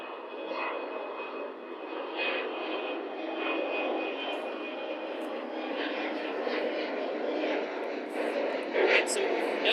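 A propeller or jet airplane passing overhead, a steady distant droning hum sustained throughout, with people chatting quietly nearby.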